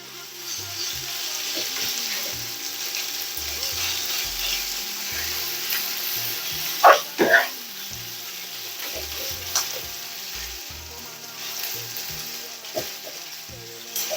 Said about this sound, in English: we are going to add our ground meat. You have to continue stirring the meat.